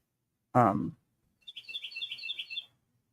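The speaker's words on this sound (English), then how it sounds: "No, that's a real bird. It's sitting right here." A real bird sitting near a feeder gives a quick series of high, bright chirps right after a short spoken voice, fairly close and clear in an otherwise quiet setting.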